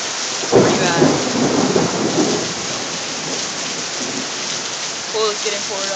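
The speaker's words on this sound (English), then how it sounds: "severe thunderstorms" A severe Florida thunderstorm: a loud thunder rumble breaks early and rolls for a couple of seconds over steady heavy rain, which then continues alone as a dense, even hiss.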